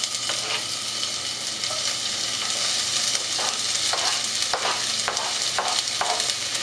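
Chopped spring onion sizzling in a tablespoon of peanut oil in a saucepan, a steady close-up frying hiss with occasional stirring scrapes and taps, no voice.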